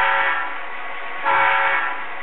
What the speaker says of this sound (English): There should be a whistle.